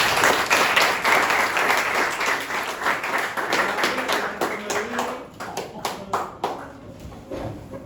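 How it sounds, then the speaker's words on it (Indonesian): A class of students gives a round of applause in a school classroom, steady and dense at first, then thinning into scattered individual claps toward the end, with voices mixed in. "Aplaus dulu untuk Sobat Myanmar."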